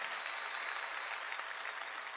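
A church congregation applauds at a summer mountain revival meeting, a dense, steady wash of many hands clapping together, fairly distant and even throughout.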